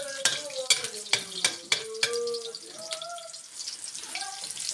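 Onion and garlic frying in a pan, heard as a steady close sizzle broken by several sharp clanks of stirring in the first two seconds, with voices speaking over it.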